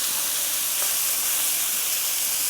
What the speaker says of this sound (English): we're just gonna cook our shrimp, guys, for about a minute